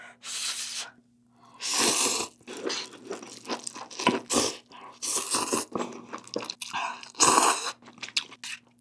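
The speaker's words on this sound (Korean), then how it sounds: "이번엔 김치 사발면 맛 먹어볼게요" Close-up eating of kimchi-flavored cup ramen noodles in bursts of loud chewing and slurping, separated by short quiet gaps.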